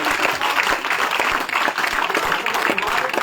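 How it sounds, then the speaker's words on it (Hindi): Loud, dense applause from a crowd at a BJP political event in Jammu and Kashmir welcoming a new party member, continuous heavy clapping close and steady throughout. "जोरदार ताली।"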